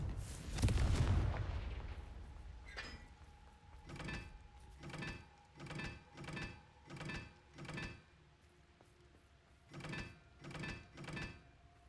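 Confringo fire spell cast in the Hogwarts Legacy game: a heavy burst up front, then a steady run of about a dozen evenly spaced crackling blasts at moderate loudness, each with a short ringing tail.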